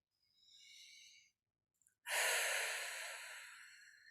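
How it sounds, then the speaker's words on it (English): A slow, deep breath drawn in during a guided spiritual meditation, loud and close, following a fainter earlier breath and a tiny click, then trailing off gradually with no talking. "I want you to close your eyes and I want you to take a deep breath."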